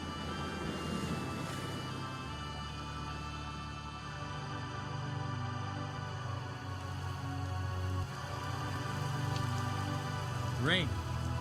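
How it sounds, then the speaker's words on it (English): Heavy rain pours down in a steady, dense hiss that holds for the whole stretch, with a low droning hum underneath and no voices. "Rain."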